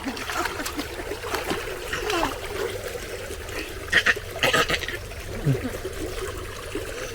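Water flows and splashes into an aquaponics tank as it fills, a steady trickling stream with louder splashy bursts near the middle, while people talk nearby.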